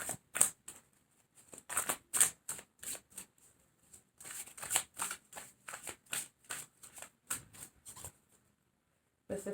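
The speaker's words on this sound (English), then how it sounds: "Let me get the rest of these cards." Tarot cards handled and shuffled at close range, a long run of quick papery flicks and riffles in uneven bursts with short pauses, no talking.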